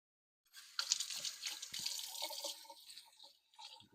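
Tap water runs steadily into a sink while fresh, dirt-covered beets from a farm stand are rinsed under it, a close, continuous splashing that wavers as the beets pass through the stream, with a few drips near the end.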